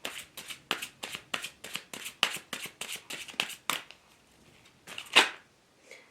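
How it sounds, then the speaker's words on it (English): A deck of tarot cards being shuffled by hand in a quiet room, a rapid run of crisp riffling flicks that ends in a pause and then one final louder snap of the cards. "I'll just quickly shuffle the cards."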